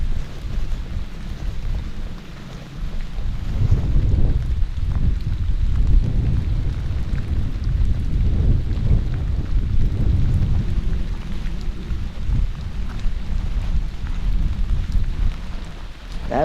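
A thunderstorm with heavy rain outside a forgotten cabin shelter in thick hilltop fog: a continuous loud downpour with deep rolling thunder swelling and rumbling beneath it, and no talk.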